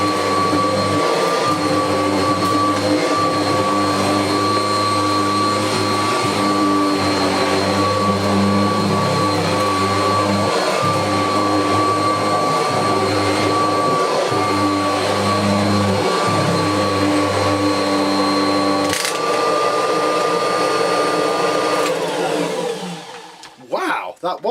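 A vacuum cleaner runs steadily on carpet, close and loud, with a constant motor whine and airflow for over twenty seconds, a brief pitch shift near the end before it winds down, while someone speaks over it.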